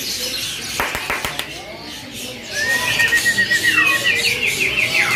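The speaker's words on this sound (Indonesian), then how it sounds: "Murai blorok pacaran." A blorok magpie-robin (murai) sings in a rapid run of bright, repeated whistled phrases that become loud and close near the end, after a few sharp clicks, with people talking faintly in the background.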